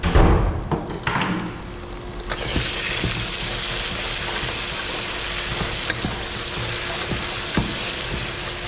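Ginger garlic paste sautéing in hot oil for a prawn biryani, with a steady, dense sizzle that swells after a brief start and holds loud and close, broken only by faint stirring taps.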